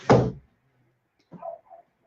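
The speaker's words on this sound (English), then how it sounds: "I gotta close the window." A household window is shut with a sharp thump and brief rattle, loud and near, followed after a pause by two faint softer knocks or creaks, with no talking.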